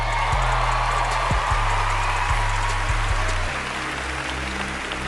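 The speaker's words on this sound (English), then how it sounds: "After initially blowing up in raucous applause" An award-show audience applauds and cheers for Michael Jackson, a steady wash of clapping heard from a distance that eases slightly toward the end, with a low hum running underneath.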